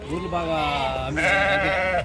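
A sheep bleats loudly and close by in two drawn-out, wavering calls with no other sounds around them, at the Gudur sheep market.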